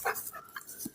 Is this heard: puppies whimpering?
yes